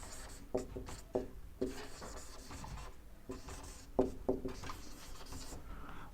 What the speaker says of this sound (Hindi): यहाँ पे लिखते हैं